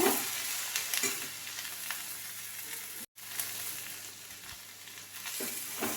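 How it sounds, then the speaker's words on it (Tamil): Onions for a groundnut chutney fry in a pan with a constant crackling sizzle and a few stirring scrapes, heard up close with one brief dropout midway. "வெங்காயம் நல்லா வதக்கியாச்சுங்க."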